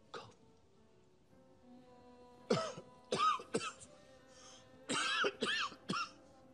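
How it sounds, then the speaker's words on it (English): Several short coughs in quick clusters, close and fairly loud, separated by quiet pauses with faint background noise. "Cough."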